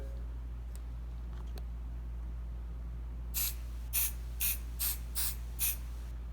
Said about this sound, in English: You'll see the 505, and we're gonna go ahead and spray that on.